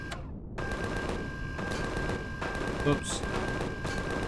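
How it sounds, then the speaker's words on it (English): Automated turrets in the video game Empyrion Galactic Survival firing on a four-man patrol, rapid sharp gunfire bursts repeating through fog-muffled ambience, with a short spoken exclamation in the middle. "Just let the turrets take them down."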